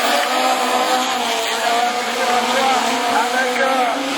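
Rallycross cars, a Citroën C2 and a Renault Twingo, race close together at a French championship final, engines wailing steadily at high revs under continuous excited commentary.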